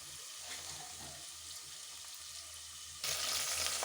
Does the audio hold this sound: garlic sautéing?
yes